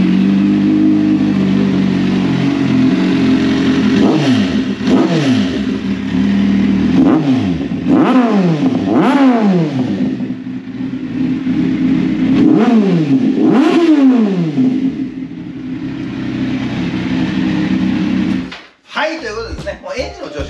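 A Kawasaki Z1000 motorcycle engine idles, then is revved hard again and again in sharp bursts, about eight throttle blips, before the engine cuts off near the end.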